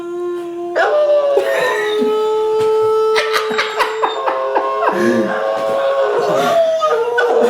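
Two greyhounds howl together in long, wavering tones that rise and fall and overlap, close and loud. A human voice joins in among the howls.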